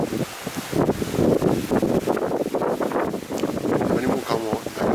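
Strong gusty wind after Typhoon No. 14 buffets the microphone outdoors at a farm field, a continuous rushing roar with rustling.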